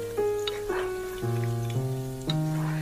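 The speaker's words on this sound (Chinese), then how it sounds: "炸的时候用筷子翻动翻动，让肉条受热均匀，炸至五花肉变金黄色" Strips of pork belly deep-frying in hot oil give off a scattered crackle and patter of bubbling, heard faintly beneath steady sustained music tones throughout.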